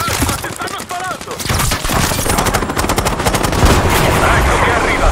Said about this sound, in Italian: Calma, ti stanno sparando!